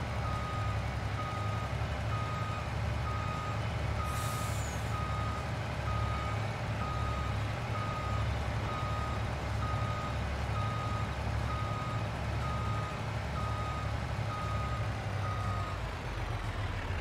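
Repeated reversing beeps from a truck in Farming Simulator 22 sound steadily throughout at a regular rhythm, over a constant low engine idle at night, with no talking.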